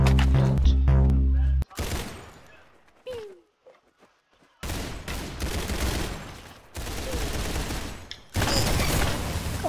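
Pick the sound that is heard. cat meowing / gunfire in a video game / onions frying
gunfire in a video game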